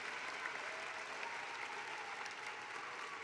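Steady, dense applause from a large crowd fills a commencement ceremony hall, continuous and even throughout at a moderate distance.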